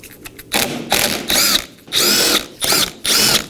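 A power tool zips out three 7mm bolts holding a rear mud guard on a 2018-2024 Chevrolet Equinox, in several loud, whirring bursts, each about half a second long, separated by short pauses.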